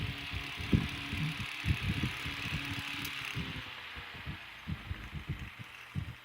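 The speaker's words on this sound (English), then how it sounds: "the fan doesn't hit the cage. It's just normal motor sounds." An oiled antique electric fan runs with its motor humming quietly, while its loose cage gives off an irregular, uneven series of soft low thumps and rattles. The sound is faint and close.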